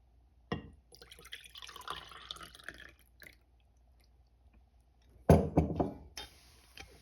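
Lemon juice splashes and trickles into a container in a couple of short pours, close by, with quiet gaps and a faint clink.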